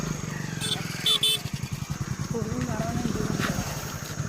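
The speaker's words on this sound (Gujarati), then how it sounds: "તો હવે આપણી બાઈક લીધે છે" A motorcycle engine runs nearby with a low, pulsing throb beneath near-constant conversation.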